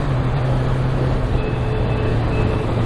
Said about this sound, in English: So I downshifted now without dumping the clutch.